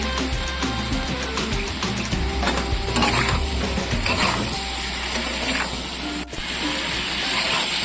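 Mixed vegetables frying with ground spices in a pan for a Bengali moong dal, giving a steady close sizzle broken by repeated scraping stirs of the spatula, with no talking.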